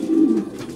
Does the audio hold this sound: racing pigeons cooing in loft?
yes